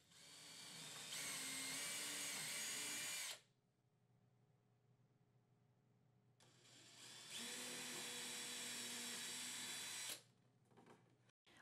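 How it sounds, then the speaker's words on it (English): A power drill bores pilot holes down into wooden bed verticals in two loud, close bursts of high whining spin lasting a few seconds each, separated by a quiet pause. "Drill 2 pilot holes 3/8 of an inch down through each of the verticals"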